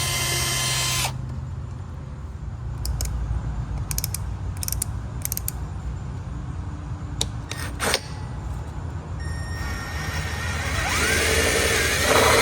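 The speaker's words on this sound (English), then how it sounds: "we're here drilling the holes on the back" A power drill whirs steadily, drilling holes in the back of a 2025-2026 Yamaha Jet Blaster for a dual exhaust, against a constant background hiss, broken by a few short, sharp bursts, and the whine rises near the end.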